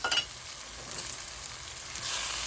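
Tomatoes sautéing in a pan with sambar powder and Jaffna curry powder, a constant close sizzle with light stirring scrapes, no voices.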